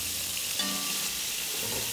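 Rabbit meat sears in a hot pan with garlic, giving a steady, close sizzle and crackle of frying with a brief clink of utensils partway through.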